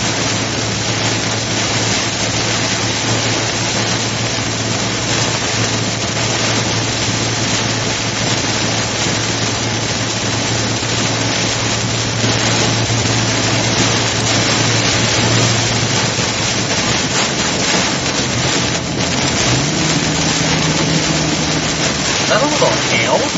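Heavy rain pours down during a severe Missouri storm, a dense, steady roar lasting the whole stretch with an engine-like hum beneath, while people talk over it.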